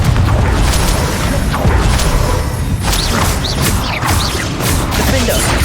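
Confringo spell explosions in the Hogwarts Legacy video game, repeated loud booms and crashing impacts amid clanking mechanical combat noise, with magical whooshes and shouted voices throughout.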